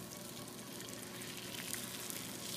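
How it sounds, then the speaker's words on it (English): Eggs for an omelet sizzle steadily in a hot pan as a rubber scraper pushes them aside, a continuous close frying hiss with no voices. "take my rubber scraper and I'm just going to push aside the eggs so that everything gets nice and cooked"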